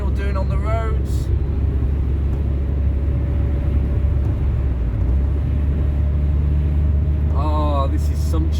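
A 1.6 S series car engine and gearbox bellow steadily while driving down the road, a loud continuous low rumble with brief voices at the start and end.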